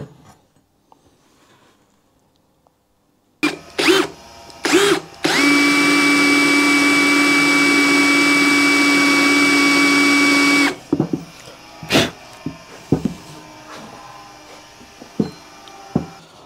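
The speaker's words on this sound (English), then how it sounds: "I think we're going to drill it." A few sharp knocks, then a power drill whines steadily at high pitch drilling metal for several seconds, followed by scattered clanks and taps of metal handling.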